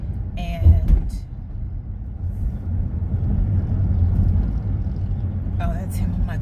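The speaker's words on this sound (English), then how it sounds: "I turned my radio off. That's the motorcycle." A low engine rumble swells and lingers, like a motorbike passing nearby, with brief voices at the start and end.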